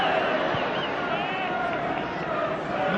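Modest football crowd at Stamford Bridge for a Chelsea vs Middlesbrough Premier League match in 1996, a steady distant murmur and hum of spectators with no distinct cheers.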